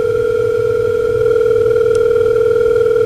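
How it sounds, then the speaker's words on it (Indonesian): A mobile phone rings with a steady, loud electronic tone that holds unbroken for a few seconds, with no voices. "ponselku berdering."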